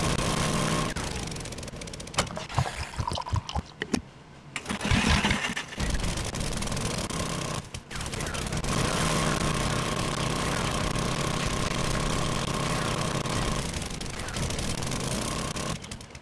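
An auger drills in the video game 7 Days to Die, producing a loud, continuous motorized grinding roar with a few brief dips and stutters early on before running steadily to the end.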